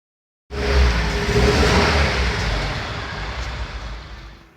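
A 45-year-old MGB GT classic car on a test drive, its engine starting up abruptly and holding a steady, loud drone with road rumble that eases slightly over several seconds, no voices.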